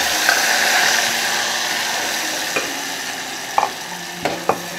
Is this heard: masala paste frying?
yes